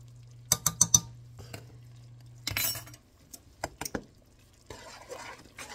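A spoon clinks against a glass bowl as baking soda is stirred into a mixture, giving quick bursts of tapping and scraping with short pauses between them and a faint low hum underneath.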